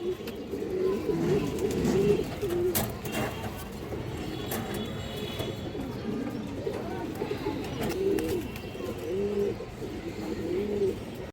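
Pigeons being sold at a pet market, cooing repeatedly in soft rhythmic bursts close by, with faint background noise and occasional clicks.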